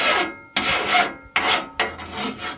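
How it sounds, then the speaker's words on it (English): A hand file rasps around the jagged, sharp edges of holes cut with a grinder in a narrowboat's steel, in three or four loud, close, rough strokes separated by brief pauses. "just going to quickly run them round with a file"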